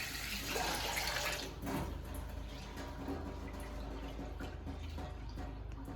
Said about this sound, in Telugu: కడిగేసి మంచినీళ్ళు పోసుకొని 1కి 2 కప్పులు నీళ్ళు పోసేసుకొని స్టార్ట్ చేయాలి.